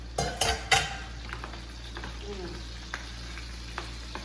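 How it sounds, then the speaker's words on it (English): Food fries in a frying pan with a soft, steady sizzle, opened by a few sharp utensil clinks and followed by scattered light taps against the pan, all fairly quiet and close. "Now I'm going to fry it anyway, so let's put this frying pan on"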